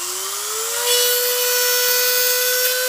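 A small cutting wheel on a rotary tool grinds off a rivet ring on an Emmaljunga pram, a loud steady high-pitched whine that rises in pitch and then holds constant.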